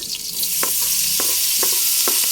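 Onion and ham fry in a pan for carbonara with a loud, steady sizzle close by, broken by a few soft spoon scrapes as they are stirred, and no talk.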